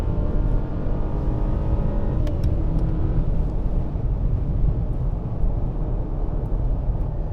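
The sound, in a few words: Mercedes GLE 350 accelerating while merging onto highway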